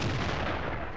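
Tank cannon fire from the World of Tanks video game, an enemy T-20 medium tank taking shots amid battle; a dense, continuous low rumble of booming gunfire fills the whole second, loud and steady with no talk.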